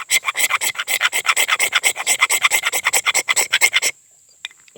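A blade scrapes steadily across a magnesium fire starter block, a rapid run of close rhythmic rasping strokes for about four seconds before stopping.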